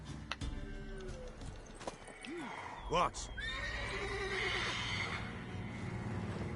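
In a video game, a horse whinnies loudly near the middle, with clip-clopping hooves and game sounds around it and a person speaking briefly.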